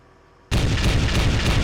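Armor-piercing rounds hit a vehicle in Arma 3 with a sudden heavy blast after a short quiet lead-in, followed by a loud, continuous roar of booming fire and impacts.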